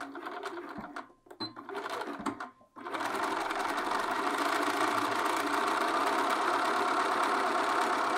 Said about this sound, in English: we're going to head over to the machine and we're going to stitch this free folded edge down